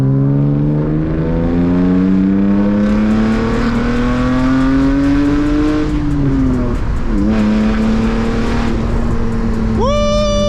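Manual BMW E36 with roughly 200 horsepower pulls hard through second gear on hill roads, the loud engine note climbing steadily, dipping briefly, then rising again close up inside the cabin.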